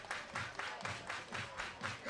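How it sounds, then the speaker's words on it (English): Baseball crowd clapping hands at a Portland Pickles versus Springfield Drifters game, rhythmic unison claps in a regular pattern of about five beats, fairly faint and distant across the ballpark. "Everybody clap your hands"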